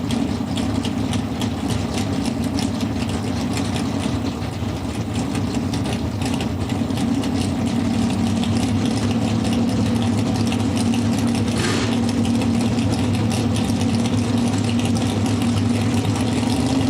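A Camaro and a 1972 Nova drag race cars idle at the start line of a drag strip event, their engines making a steady, loud, rumbling drone with no pause.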